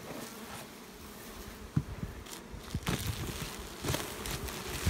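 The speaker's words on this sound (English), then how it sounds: "You can tell just by the hive activity from the top here." Honey bees buzz around an active beehive, a faint steady drone close by, with occasional louder passes as individual bees fly near and some light handling clicks.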